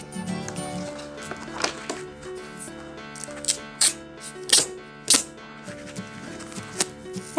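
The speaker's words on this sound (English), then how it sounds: "Let's just wrap this duct tape all the way around our packs right where they met." Duct tape pulled off a roll and wrapped around joined packs in a craft demonstration, with sharp ripping and crackling bursts, some rustling handling between the pulls, close and fairly loud, without speech.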